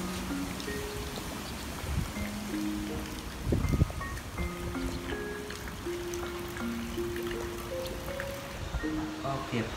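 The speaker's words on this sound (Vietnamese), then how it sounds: "ngoài trời nó mưa rất là to" Heavy rain pours outside during a central Vietnam storm, a steady wash of dense drops with a louder splashing burst partway through, while faint tonal sounds and some background voices sit low in the mix.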